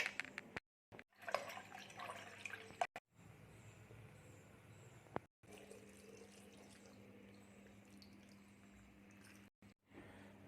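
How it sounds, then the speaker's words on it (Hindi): Water trickling steadily through a charcoal filter indoors, a soft continuous pouring and dripping that runs for several seconds with a few brief breaks. "अभी अभी मुझे ध्यान आया चारकोल फिल्टर से पानी फ़िल्टर करते हुए"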